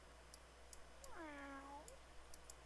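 A single drawn-out meow from a cat in The Sims 3, faint and smooth, rising then falling over about a second against quiet background hum and light ticks.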